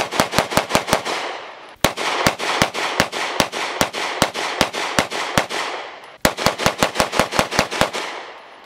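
Rapid bursts of gunfire at a rubber training dummy on a shooting range, loud and close: a quick string of shots, a steady run of evenly spaced shots, then another fast burst, with no talking.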